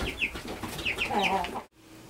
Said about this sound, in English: She's a greedy laying hen.